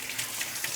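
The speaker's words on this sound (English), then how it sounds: "it's extremely important to rinse them under cold water to get rid of the salt that's in the brine" Cold tap water runs steadily over canned cannellini beans being rinsed of their brine, a soft continuous hiss of flowing water with faint splashes.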